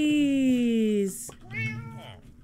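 A Minecraft cat lets out a long, clear meow close by, followed by shorter mewing calls, with a voice speaking briefly alongside.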